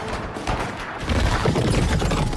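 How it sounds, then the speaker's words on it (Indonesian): A gunshot bursts out in an action film scene as a newly elected mayor of Gotham begins his speech, a loud broadband crack that swells into a dense, rumbling spray of blasts. "secara tiba-tiba dia ditembak oleh pengikut"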